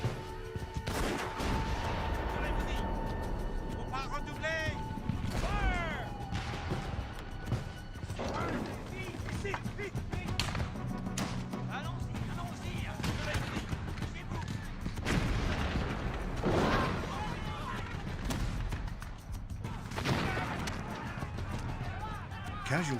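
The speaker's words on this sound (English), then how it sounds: "The French artillery proves devastating." Artillery cannon fire in a battle at a fort, French guns shelling British positions, with heavy booms and crackling gunfire mixed into a dense, loud battle din that runs throughout.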